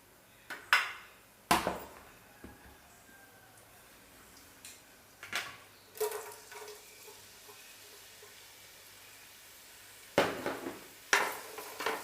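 Chopped onions go into hot oil in a pan. A steady soft sizzle runs under scattered, sharp clinks and scrapes of a utensil stirring against the pan.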